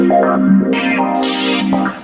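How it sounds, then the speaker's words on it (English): Synth chords on Cherry Audio's Mercury 8 synth shift under a sample-and-hold filter modulation that jumps between tones, giving a bubbly, burbling texture with no voices. "it's modulating the filter to get that bubbly sound"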